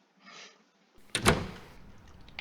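A door in a video game opens with a creak and thuds shut, a short low bump followed by a sharp closing clack and a fading tail.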